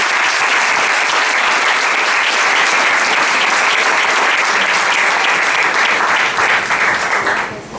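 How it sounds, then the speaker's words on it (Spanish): A church congregation breaks into loud, sustained applause, a dense wash of clapping hands that fills the room for several seconds before easing off at the end. "Denle un aplauso, un aplauso, un aplauso."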